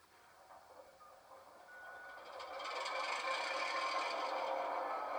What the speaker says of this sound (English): So I'll start up the locomotive.